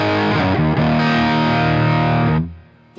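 A cranked Marshall Silver Jubilee 2558 combo amp pushes an electric guitar into heavy distortion, playing a few thick chords that ring out loud and sustained before the sound cuts off and leaves a faint hum.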